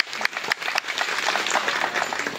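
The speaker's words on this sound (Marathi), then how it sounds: "आनंद सरांसाठी जोरदार टाळ्या" An audience at a school reunion applauds a teacher with a dense, steady wash of clapping from many hands, loud and continuous throughout.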